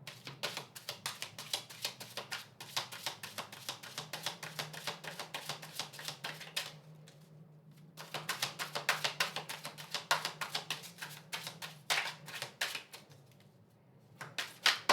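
Tarot cards are handled and laid out, giving rapid bursts of crisp papery flicks and taps in quick succession, close and fairly quiet, with short pauses between the bursts.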